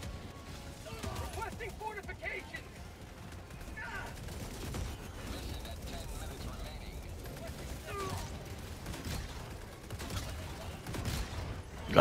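Rocket sentry in the video game Helldivers 2 firing in rapid, continuous bursts, dense gunfire-like crackle and booms sustained throughout amid chaotic battle noise, with voices talking over it.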